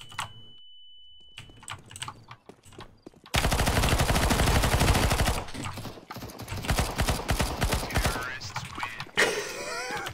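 Rapid gunfire in CS:GO Wingman, a sustained loud burst of fast shots after sparse clicks, then scattered further shots with keyboard clatter around it.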